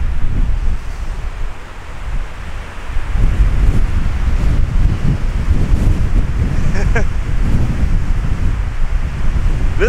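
Sea waves break along the Swedish coast while strong wind buffets the microphone, a loud, rough, continuous roar that swells partway through, with surf rushing beneath.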